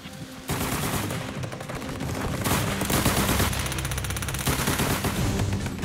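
A World War II Bren machine gun fires in loud, rapid, sustained bursts with dense rattling reports and brief gaps between volleys, without any talking.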